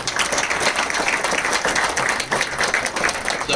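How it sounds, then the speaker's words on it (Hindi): An audience applauds Swami ji at a meditation gathering, with dense, steady clapping that stays loud and continuous from start to finish. "स्वामी जी को जोरदार से तालियां बजाएंगे।"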